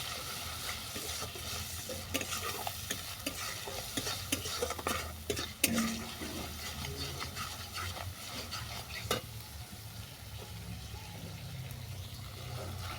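Shrimp spiced with turmeric and salt stir-fried in a pan, a steady low sizzle with repeated scraping stirs of a utensil against the pan, moderately close and continuous.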